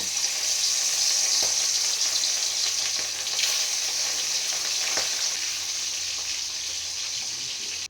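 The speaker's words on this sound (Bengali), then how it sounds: "শোল মাছগুলোকে আগে আমি ভেজে নেব" Pieces of snakehead fish frying in hot oil for a fish kalia, a loud, steady, close hiss of sizzling that runs throughout with a few faint clinks of utensils.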